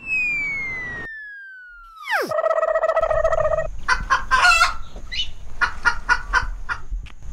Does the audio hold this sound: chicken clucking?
yes